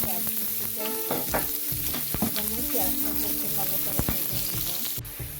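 Onions frying in hot oil for a Bengali long-bean (borboti) bhaji, a steady close sizzle with scraping stirs and clinks of a spoon against the pan running throughout.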